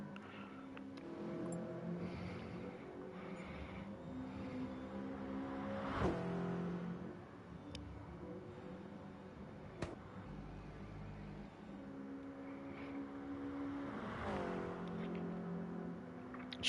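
Two GT86 race cars circling the Dragon Trail Seaside track in a racing game, engines droning and revving faintly, rising and falling as they pass, with no talking.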